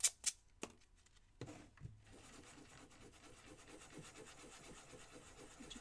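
Hand sanding on the wood of a DIY shelf kit gives a soft, quiet, rhythmic rasping, preceded by a few sharp knocks and taps.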